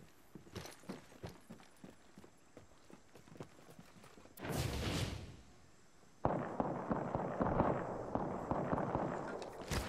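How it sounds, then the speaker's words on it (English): Gunfire in Apex Legends, a run of sharp irregular shots followed by a louder burst of sustained shooting. Other game sounds mix in, and no voices are heard. "Who's shooting now?"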